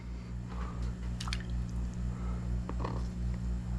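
Sliced pickles are dropped into brine with soft, wet squishes and drips over a steady low electrical hum, close and quiet, with no talking.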